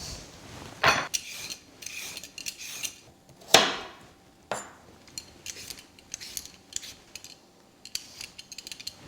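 A peeler scraping carrot, swede and potato, with close, loud rasping strokes in bursts and short pauses between them, no talk.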